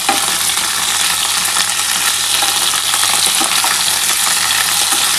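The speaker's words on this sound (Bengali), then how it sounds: "দেখো, আলু আর ফুলকপিটা কিন্তু একসাথে ভাজতে হবে।" Potatoes and cauliflower frying together in a pan of hot oil, a steady dense sizzle running unbroken from start to finish, loud and close with no voices.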